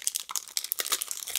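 Plastic packaging holding diamond painting drills crinkles in short, close bursts of crisp rustling for about a second and a half, with no talking.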